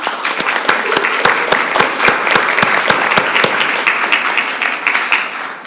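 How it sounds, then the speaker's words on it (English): Applause at a school board of education meeting for Jean and Lisa, a steady roomful of clapping with sharp individual claps standing out, loud and continuous for several seconds before easing slightly at the end. "They deserve a big round of applause"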